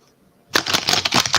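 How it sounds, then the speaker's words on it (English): Tarot cards being shuffled by hand, starting abruptly after a quiet moment as a dense run of crisp riffling flutters and snaps, close and fairly loud, with no talk. "I'm going to just take a moment, shuffle the cards"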